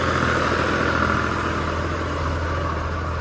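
A tractor engine runs in a wheat field with a steady low rumbling drone, close and even, with no other sounds.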